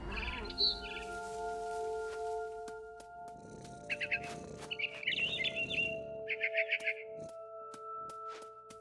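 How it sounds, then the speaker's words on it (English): Barn swallow chirping in the video game What Remains of Edith Finch, quick bursts of high twittering calls over a soft ambient music bed, with no talk. "Then I heard chirping outside my window. It was a barn swallow going back to her nest."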